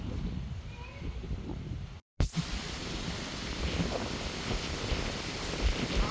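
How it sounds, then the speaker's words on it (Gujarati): Strong wind buffets the microphone in a continuous roaring rush, loud and close, with a brief dropout partway through before the gusting resumes. "પવન બહુ જ છે બહુ જ અવાજ આવે છે પવન"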